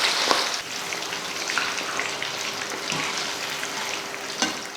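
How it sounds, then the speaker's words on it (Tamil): Chicken pieces, cut to a normal size for a chicken gravy, frying in hot oil with a steady, dense crackle and sizzle, plus a few sharper pops, continuous throughout with no voices. "சிக்கன் வந்து பொரிச்சாச்சு இப்போ எடுத்துடலாம்"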